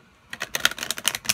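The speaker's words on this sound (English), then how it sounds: "I will shuffle this half," A large glossy tarot card deck is riffled and shuffled, giving a quick run of crisp, rapid clicking flutters after a short silence, close and fairly quiet.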